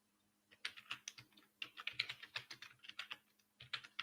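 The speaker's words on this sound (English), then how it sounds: "Somebody's typing." Rapid keystrokes on a computer keyboard, a quick irregular clatter of clicks that starts after a short pause and runs on steadily, faint and alone.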